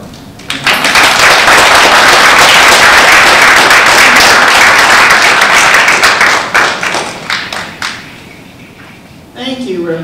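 An audience claps for Representative Thompson after a talk on women's financial security, a dense, loud burst of applause that holds steady for several seconds, then thins into scattered claps and fades, with a voice starting up at the end.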